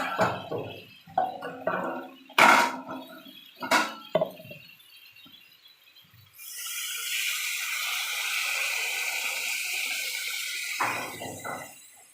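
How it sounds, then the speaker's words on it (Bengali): A little water poured into frying spices for a Bengali rohu fish and potato stem curry, heard as a steady hiss and splash that starts midway, after earlier clinks of utensils against glass and metal. "সামান্য জল দেবো, দিয়ে মশলাটা আমি কষিয়ে নেব।"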